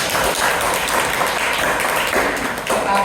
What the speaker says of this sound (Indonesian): beri tepuk tangan dulu untuk kalian